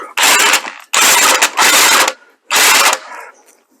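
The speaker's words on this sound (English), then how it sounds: "Impact wrench not getting the job done." An impact wrench hammers at stubborn lug nuts on a Chrysler 300C in four loud, close rattling bursts with brief pauses between them. Each burst cuts off abruptly and no one talks.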